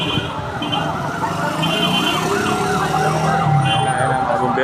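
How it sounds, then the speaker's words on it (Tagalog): Fire engine sirens wail continuously as fire trucks arrive at a house fire in Pasay City, loud and close, with traffic rumbling underneath. "Ayan, mga bumbero, dumarating na."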